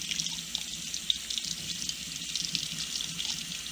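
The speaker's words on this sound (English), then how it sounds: "Then you will need to rinse this one out." Tap water runs steadily into a sink while a denture is rinsed under it, a constant close splashing hiss with a brief knock partway through.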